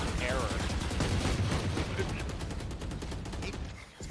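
Sheriff pistol and assault rifle fire in a Valorant match, rapid repeated gunshots in a steady burst at moderate volume, with voices talking faintly underneath.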